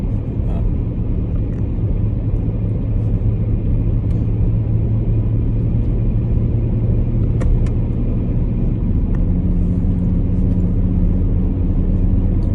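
A car drives along a salted, snow-cleared road in Scotland on a sunny, sub-zero day, giving a loud, continuous low rumble of engine and tyres from inside the vehicle with no pauses.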